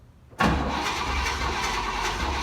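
A 1972 Chevy Nova's engine cranks and catches after a brief quiet moment, then runs loud and steady close by, with a rough, untuned idle for the rest of the clip.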